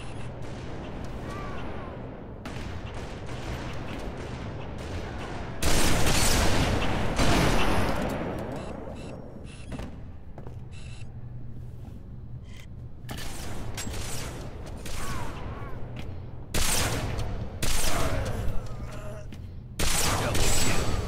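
Sniper rifle fire in Halo MCC during a team snipers match on the Citadel map: loud, sharp shots and booming bursts recur at irregular intervals over quieter game ambience.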